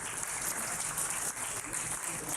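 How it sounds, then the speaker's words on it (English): A classroom of students claps for a classmate, a faint, continuous patter of hands heard at low volume with a hint of voices underneath. "Clap for him."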